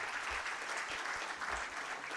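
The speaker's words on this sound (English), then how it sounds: "I think we should all give a big round of applause for that as well" An audience at a live talk claps steadily, a dense wash of many hands at moderate distance, sustained evenly with no voices over it.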